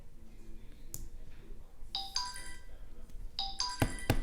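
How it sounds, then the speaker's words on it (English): A mobile phone ringtone going off, its bright electronic tones chiming in repeated bursts over quiet background with faint movement. "phone is going off."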